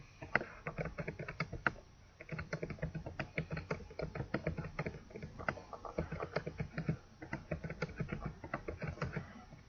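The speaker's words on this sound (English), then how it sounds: "Every time I finish typing, I push tab and it goes to the next cell." Keys clatter in quick rapid bursts on a computer keyboard while filling in cells of a chart, with short pauses between runs and occasional tab key presses, close and fairly quiet.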